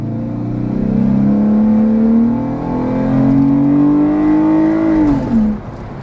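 A car engine with its intake audible revs up and holds a steady, rising drone for several seconds, then falls away sharply near the end, loud and close with no talking.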